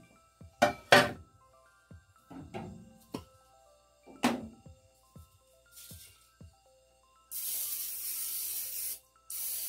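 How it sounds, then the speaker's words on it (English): Cooking spray hisses out of a can in two steady bursts to coat a four-loaf mini bread pan, following several handling thuds and rustles on a kitchen counter. "I'll spray my pan."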